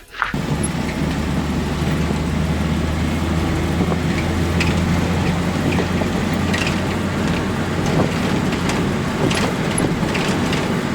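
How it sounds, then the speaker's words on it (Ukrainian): A truck drives along the road, its engine and tyre rumble forming a loud, steady, unbroken drone with no voices. "Тепер погнали вантажівкою."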